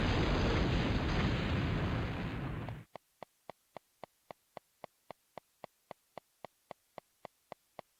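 A bomb blast in a PS1 video game demo: a loud, sustained roaring burst that cuts off abruptly, followed by a steady series of sharp, evenly spaced ticks.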